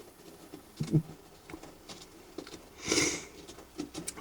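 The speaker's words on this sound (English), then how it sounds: "Strange noise in the background is the cat having a scratch at the doormat." A cat scratches at a doormat, heard as faint, irregular scraping and pattering with a louder rasping burst, alone with no talk.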